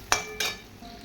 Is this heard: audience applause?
no